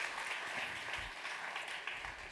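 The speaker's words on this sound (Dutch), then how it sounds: "u mag straks aan het eind nog veel harder klappen voor Ladan" Audience applause at a public meeting on poverty and debt relief in the Netherlands, a steady broadband wash of clapping from a crowd that holds at an even level throughout.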